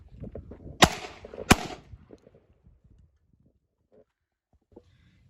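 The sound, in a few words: Beretta 1301 shotgun firing shells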